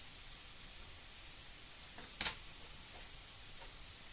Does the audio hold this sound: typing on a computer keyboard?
no